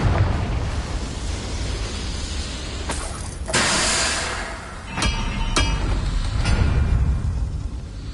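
Confringo blasting spell bursting in Hogwarts Legacy on PS4, a sharp explosive boom followed by a sustained roar, with further sharp pops and bursts over a constant rumble of game sound.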